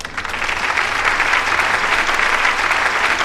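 Steady, dense applause from a large studio audience at a gun show taping, a continuous wash of clapping that stays loud and even throughout with no voices standing out.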